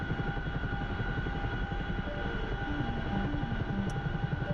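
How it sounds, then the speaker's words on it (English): Chinook helicopter rotor and engine noise, a loud, steady, continuous drone heard up close throughout, with no talking. "the Chinook's still really loud"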